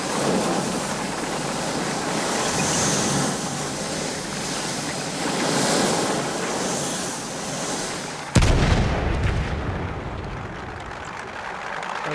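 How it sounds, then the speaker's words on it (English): Light howitzer tank gun in Battlefield 1 fires one loud, deep, sudden boom that cuts through a steady roar of wind and surf-like noise, then rumbles away. "This howitzer tank is great. It doesn't have any range, but it's got a giant gun."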